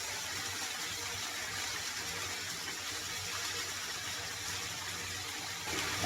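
Coconut milk pours steadily into a pot of tilapia stew with vegetables, a soft continuous liquid rush with no talking.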